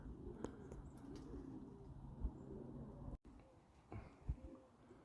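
Soft, low cooing of fancy pigeons murmurs close by in a loft against a quiet background, with a few faint chirps and brief rustles.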